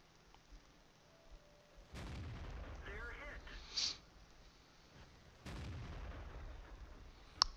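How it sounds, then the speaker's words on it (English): Artillery shells firing in World of Tanks on the Karelia map in Assault mode, heavy booming bursts that open into long rumbling tails, one around two seconds in and another near five and a half, with a sharp crack at the very end. "Here's artillery."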